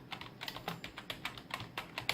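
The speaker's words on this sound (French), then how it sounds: "Donc au niveau du clavier, c'est un Logitech G 213 je crois." Keys clack in an uneven, quick rhythm on a Logitech G213 computer keyboard, close up and fairly quiet, with no voices.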